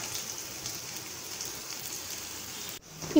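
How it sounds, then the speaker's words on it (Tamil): Onions and green chilies sizzle in a pan for a Tamil idiyappam kurma side dish, a steady close hiss of frying, briefly broken near the end by a clatter. "இப்போ வெங்காயமும் பச்சை மிளகாயும் நல்லா கொஞ்சம் வதக்கிக்கலாம்."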